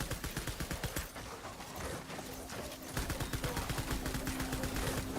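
Rapid automatic gunfire from a shooter sequence in the video game Death Stranding Director's Cut, loud rattling bursts of evenly spaced shots that pause briefly midway, then resume in a steady stream.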